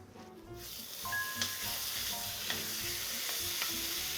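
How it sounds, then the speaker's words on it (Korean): Seasoned beef for dumpling filling stir-fries in a pan, a close, even sizzle with a utensil scraping and tapping at the meat every second or so, with no voices. "저 우둔살 같이 장조림이나 그러니까 담백하게 그냥 양념해가지고 볶을 거예요."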